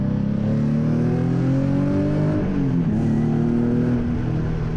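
Nissan 370Z Nismo heard from the cabin as it accelerates hard, a loud sustained engine drone with rising pitch, a brief dip around a gear change, then pulling again; no talk.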